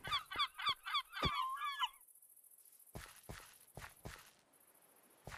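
Loud honking bird calls from a seagull in a Minecraft mod, several quick cries in a burst, followed by scattered footstep-like taps and clicks.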